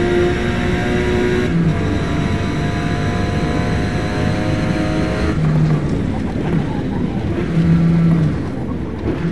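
Racing car engine lapping the Virginia circuit in Forza Motosport, a steady loud drone with shifting pitch and gear changes, continuous throughout.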